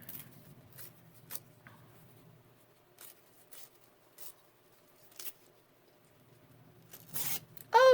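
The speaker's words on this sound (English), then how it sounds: "I gotta tear it the opposite direction now." Paper being torn by hand while making a large fall journal card: faint, short rips and rustles spaced irregularly, close and quiet, ending in a louder burst.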